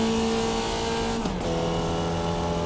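A Formula Vee car with a 70-year-old Volkswagen engine revs hard in the iRacing sim, a loud, steady buzzing drone near 7,000 RPM with a brief dip as it shifts, then settles again.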